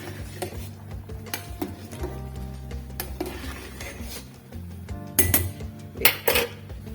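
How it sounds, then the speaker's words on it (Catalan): Dried beans are stirred in a pot with olive oil, giving close, irregular scraping and clinking against the pot, with a few sharper metallic knocks toward the end and a low steady hum underneath. "el que farem és remenar bé les mongetes perquè agafin una mica l'oli d'oliva que hi ha a la superfície"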